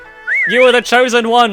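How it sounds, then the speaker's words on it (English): A character whistling a rising, wavering tune to encourage a racing turtle in the Shenmue 3 video game, brief and close, with a line of speech running alongside. "I'm a little bit disappointed that the encouragement you give to your turtle is just Ryohazuki whistling."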